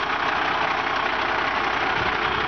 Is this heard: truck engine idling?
yes